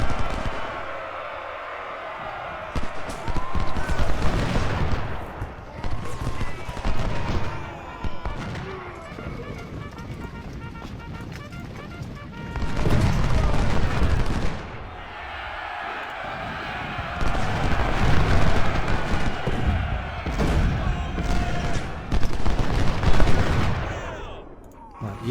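Cannon and musket volleys from an Ultimate General: Civil War battle roll in repeated heavy booms and crackling bursts, dense and loud across the whole stretch.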